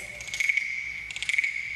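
A small wooden frog-shaped rasp toy scraped to imitate frog calls, giving two bursts of dry, rapid, cricket-like rasping close by with a quiet gap between them.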